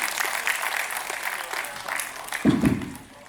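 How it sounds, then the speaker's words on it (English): Applause from a keynote audience at an AI and automation conference, a steady broadband patter of many hands filling the room, swelling briefly near the end before tapering off. "the speaker deserves a truly energetic round of applause"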